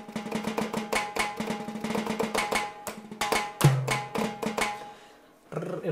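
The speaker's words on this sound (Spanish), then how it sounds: "El remate de los timbales." Timbales closing fill played on a keyboard with delay and reverb, a rapid run of sharp percussive hits building to a strong accent, then a brief pause and a final hit, loud and close with no talk.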